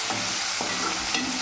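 Peanuts and chana dal fry in hot oil as a tempering for semiya upma, giving a steady, close sizzle with a few stirring clatters and no voices.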